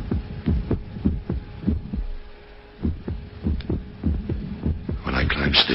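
A human heartbeat thumps in a steady close rhythm over a faint hum, with one noticeable pause where a beat drops out before the pulses resume.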